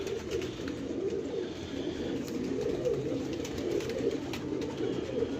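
Pigeons in a loft or trap net coo steadily in a low murmuring chorus, with restless rustling and fluttering wing movement throughout and no voices.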